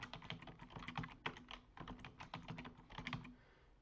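Rapid, quiet keystrokes on a computer keyboard as a password is typed in while setting up service accounts for a SQL Server 2019 Standard installation, clicking along steadily and alone.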